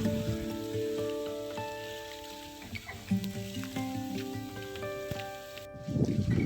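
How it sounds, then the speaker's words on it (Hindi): Rain falling again in blustery wind, a steady soft patter spread across the scene, mixed with faint tonal hum and a louder rustling gust near the end. "फिर से बारिश शुरू हो गई है।"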